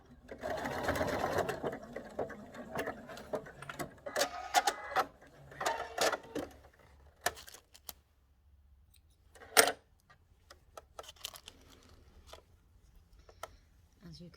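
A sewing machine stitches across the top of a box pleat in fabric, a close, quick mechanical whirr in bursts with short pauses and a few clicks between runs.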